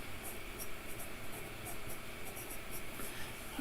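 Faint, scratchy strokes of a stiff Hunt 52 dip pen nib dragging across paper, loaded with Pelikan 4001 Violet ink, in a quiet steady run of short writing marks.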